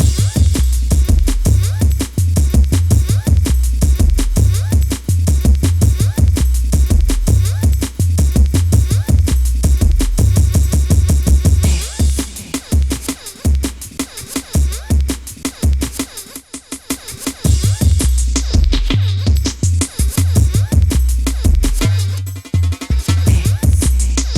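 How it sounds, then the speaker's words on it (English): Fast, busy jazzy drum-and-bass beats pound over deep bass, thinning out midway into a sparser drum break before building back up. "I put in this little drum break in the middle."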